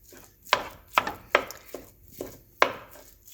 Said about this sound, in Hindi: स्पून से इसको इस तरह से ब्रेक करेंगे।